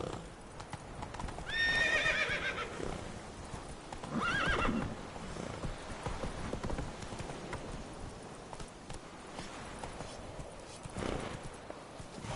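Horse ridden in The Witcher 3 video game, steady clip-clop hooves throughout with two clear neighs early on, close and fairly quiet.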